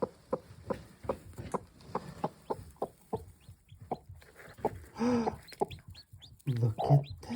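Orpington hen clucking with baby chicks in a coop: repeated soft, close clucks in a loose rhythm, joined by higher chick peeps and a few louder calls near the end.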